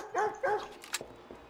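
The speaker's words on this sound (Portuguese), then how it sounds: "Achei que era o cachorro deles, já ia morder" A dog in the video game Watch Dogs 2 gives two quick close barks followed by fainter yips and whimpers.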